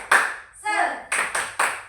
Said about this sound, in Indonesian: Nah, kita mulai tepuk semangat.